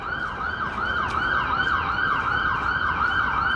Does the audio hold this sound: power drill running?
no